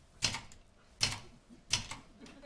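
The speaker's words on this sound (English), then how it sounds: "I used to have to laboriously type out my sermons on an old typewriter like this." An old typewriter being typed on slowly, three separate crisp key strikes spaced evenly apart, quiet and close, with near silence between them.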